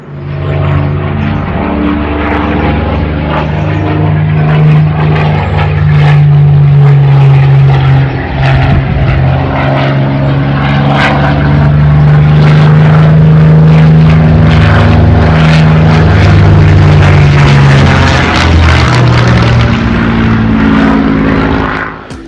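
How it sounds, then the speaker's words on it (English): A loud Spitfire propeller aircraft engine roars steadily overhead, its deep throbbing drone swelling and holding for a long pass. "right there is a Spitfire. You can probably hear it"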